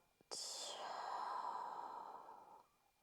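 A single deep yoga breath, drawn in with a short sniff and then released as a long, airy, breathy exhale that fades away after a couple of seconds, close and fairly soft with no talking.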